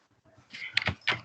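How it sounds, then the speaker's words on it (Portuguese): A room door being pushed shut indoors in a home, a short sliding rub followed by two close, fairly loud knocks as it meets the frame, with no talk over it. "vou fechar a porta"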